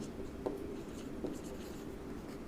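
Pen scratching on paper during a class 9th physics numerical lesson, soft quiet strokes with a couple of small taps, close and faint, alone without speech.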